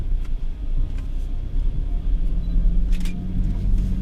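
A Toyota SW4 SRX 2.8 diesel crawling slowly off-road, its low engine rumble steady and close, with a few faint knocks and rattles over the terrain.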